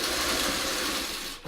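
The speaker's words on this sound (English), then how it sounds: "this is where you're going to sew on the next one in the next column" A sewing machine stitches quilt pieces together in a fast, continuous mechanical whir up close, stopping abruptly near the end, with no talk.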